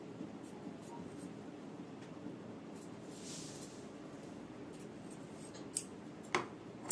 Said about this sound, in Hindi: अंदर से जो एक्स्ट्रा कपड़ा होता है इसे काट देना है।